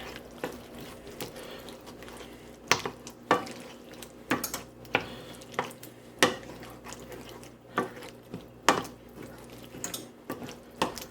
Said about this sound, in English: Stir that all in together.